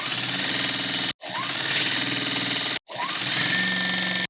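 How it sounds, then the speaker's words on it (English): Sewing machine stitching quilt block rows together for a nine-patch, a steady rapid mechanical whir in two short pauses between bursts, close and loud with no talk. "We'll grab our other row and sew it onto the bottom."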